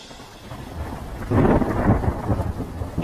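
Steady rain patters as a deep roll of thunder swells in halfway through and rumbles on, loud and close, with no voices.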